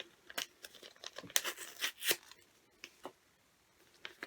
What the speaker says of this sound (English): And then you are very carefully going to tear